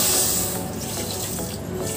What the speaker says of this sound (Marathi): आता त्याच्यात आपण पाणी घालू, पाणी थोडंसंच घालायचं आहे।